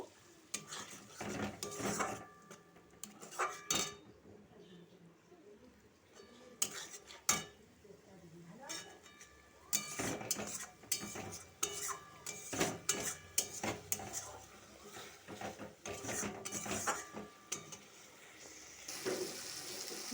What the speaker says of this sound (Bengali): জল দিয়ে ভালোভাবে আমি মশলাটা কষে নেব